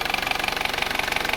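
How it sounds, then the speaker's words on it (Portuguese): A Honda WR-V engine runs with its belt tensioner loosened and the belt stopped, giving a close, steady idle with a fast, even mechanical pulsing beat. "Agora a correia parou, o motor está girando livre."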